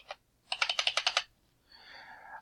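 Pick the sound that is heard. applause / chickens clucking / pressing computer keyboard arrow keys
pressing computer keyboard arrow keys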